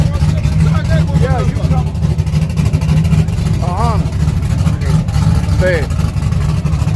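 Fuel-injected, nitrous-fed race car with roll cage and single seat idling and pulling out at an outlaw drag strip, a steady low engine rumble running throughout beneath close-up talk.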